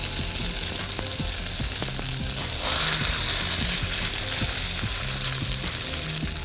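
Salmon fillet coated in spices searing on its sides in a hot pan, a steady loud sizzle and crackle of frying that swells briefly midway, with faint clinks and scrapes underneath and no talk.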